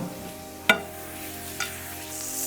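Wagyu onion burger patties frying on a hot griddle give a steady sizzle, with two sharp clanks of a spatula standing out close by.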